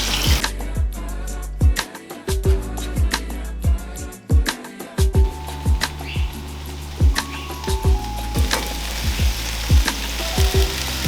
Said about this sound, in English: we have to fry maybe the same time, like 3 to 4 minutes with the lentils